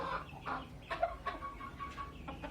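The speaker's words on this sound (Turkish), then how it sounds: "Sonradan çıkan horoz şu işte arkadaşlar ya." A rooster of the Ottoman Sultan chicken breed clucks in short, irregular bursts at close range, a few throaty calls and softer murmurs with no talking.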